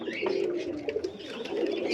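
Pigeons coo softly and repeatedly in a loft at night, low throaty calls layered close together over a faint background of rustling.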